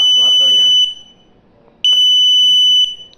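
Buzzer on an IoT actuator board with a servo, a loud piercing electronic tone sounding in two bursts separated by a short pause, with a voice talking over the first burst.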